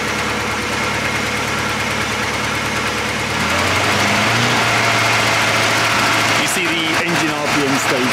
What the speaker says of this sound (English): if I just blip the throttle with my screwdriver